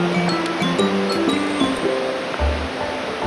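Dampalit Falls beneath Mt. Makiling pours in a constant broadband rush of water, close and loud, with faint tonal background sounds.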